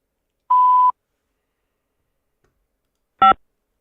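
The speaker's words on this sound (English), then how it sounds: "To accept this call, say or dial 5 now." A telephone keypad tone sounds for dialing 5 to accept a prepaid prison call. A steady half-second beep comes first, then silence, then one short sharp keypad tone, clear and isolated.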